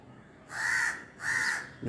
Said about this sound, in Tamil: இந்த காக்கா தான் ஜோடி காக்கா போல். நம்மளை விரட்டுறதுக்கு நிற்கிது.